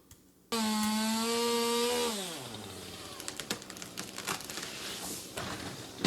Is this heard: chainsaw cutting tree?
yes